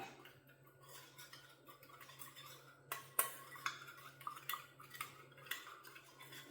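A spoon stirs curd and honey in a small bowl, making soft, quiet scraping and a run of light, irregular clinks against the sides that grow busier midway, over a low steady hum.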